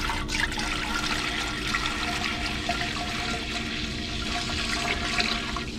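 Vinegar glugs from a large jug into a pot to start a pickle brine, a steady close splashing pour that runs continuously with no speech.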